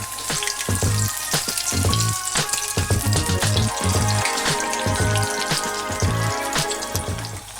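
Eggs frying in a pan for a tomato egg breakfast, a loud steady sizzle and crackle with repeated low thumps and clatter throughout, no talking.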